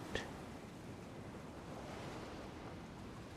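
Ocean waves wash over coastal rocks as a steady, soft surf rush with a brief splash at the start, calm and continuous with no voices.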